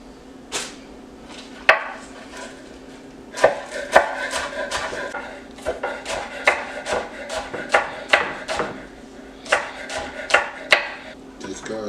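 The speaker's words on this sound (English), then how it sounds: "we're gonna start chopping up this onion" A knife chops an onion and green onions on a cutting board during turkey taco prep, with close, irregular sharp thuds in quick bursts and short pauses between them.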